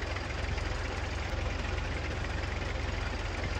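An Allis Chalmers WD-45 tractor idling in Farming Simulator 19, a loud, steady, low engine rumble with an even rapid pulse from start to finish.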